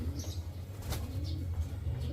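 Racing pigeons flap their wings inside a loft, a few soft fluttering bursts close by over a steady low background hum.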